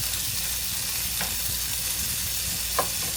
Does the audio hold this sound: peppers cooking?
yes